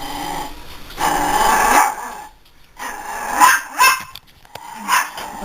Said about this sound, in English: I'll shut this so we don't have to listen to the dog barking.